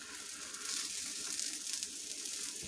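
A carnivore taco shell, a meat-based tortilla, sizzles in a hot pan with a steady soft hiss and crackle, faint and continuous, with no voices.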